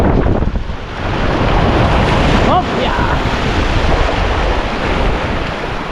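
Loud ocean surf breaking on a seashore, a heavy roaring wash of water with strong wind buffeting the microphone throughout, while a few people call out briefly over the noise.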